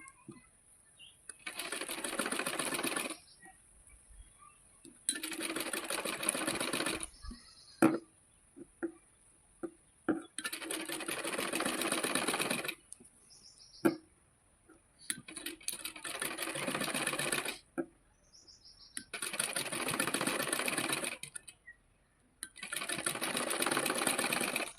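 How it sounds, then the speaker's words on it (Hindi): Sewing machine stitching piping onto the folded fabric of a blouse, in five or six long steady runs of rapid whirring separated by short quiet pauses and small clicks, close and clear with no talk. "अब दोबारा से हम इस पर इस प्रकार कपड़े को फोल्ड करते हुए इसके ऊपर हम सिलाई को लगाएंगे।"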